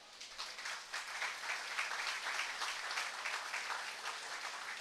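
Steady applause from a church congregation at a Sunday service in Charallave, a dense wash of many hands clapping together for several seconds without a break.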